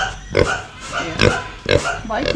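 A pig in a Bali village grunts and oinks in three short bursts at close range, with people talking softly around it.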